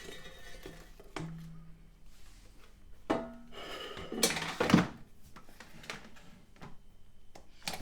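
Chips scraped and tipped out onto a plate, with scattered wooden and clinking knocks, rubbing scrapes and a few louder clattering moments, close and fairly quiet with no talk.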